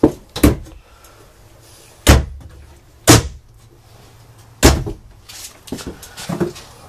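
A series of loud door slams and thuds from the doors of a 2014 Open Range 318RLS camper, about five, spaced unevenly over several seconds, close by with a quiet interior between them.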